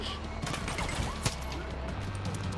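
Enemy sniper fire in Far Cry 5 comes as a rapid volley of gunshots under steady game ambience, with one sharper crack standing out partway through.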